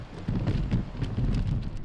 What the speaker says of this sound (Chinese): 西灣河夜晚落起大雨，大風又大雨。